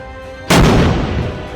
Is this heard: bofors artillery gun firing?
yes